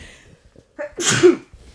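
A single sharp sneeze bursts out close by after a quick intake of breath, then it goes quiet.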